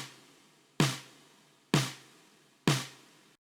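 Free snare drum sample for an EDM track: three sharp, punchy hits spaced about a second apart, each with a bright crack and a short decaying tail, played alone.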